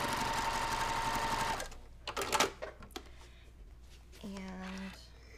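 A sewing machine runs fast and steady while stitching a quilt block seam, a dense mechanical whir close by that stops abruptly, followed by handling noises and a brief tone.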